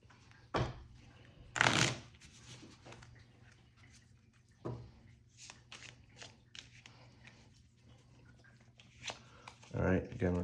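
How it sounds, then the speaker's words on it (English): A deck of Sushi Go Party game cards is shuffled by hand in several short riffling bursts at close range, with quiet pauses between them and a person talking in the background. "Again, with the wonderful shuffling."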